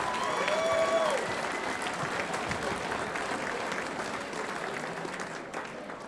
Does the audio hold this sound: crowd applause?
yes